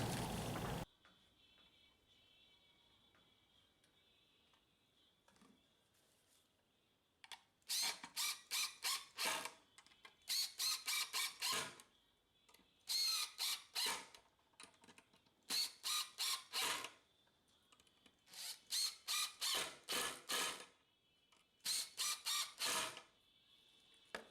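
Wood screws are driven into shaper jig mounts in about six separate bursts of rapid ratcheting whir, each lasting a second or two, close and loud against a quiet room.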